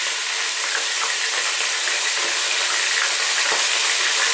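Fresh chopped garlic and a bit of chili sizzle in oil in a pan, a continuous bright crackling fry with occasional stirring scrapes, close and steady with no talking.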